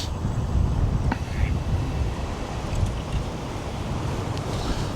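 Strong wind blowing beside a canal, a constant low roaring buffet against the microphone with no clear breaks.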